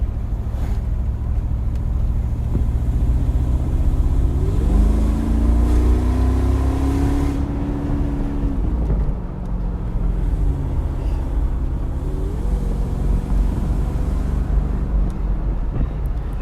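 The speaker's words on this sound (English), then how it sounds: "But then you get that glorious noise of the V8 and the whine of the supercharger." A Mercedes-Benz G55 AMG's supercharged V8 pulls hard under acceleration inside the cabin, a loud continuous engine roar whose rising whine climbs, holds, drops at a shift, then climbs again.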